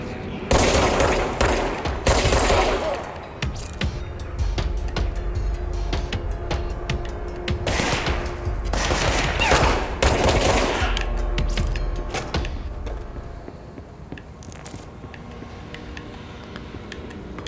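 Sustained gunfire from shooting enemies in the action video game Control, with dense bursts of rapid shots and heavy impacts over a steady game soundscape, tapering off toward the end.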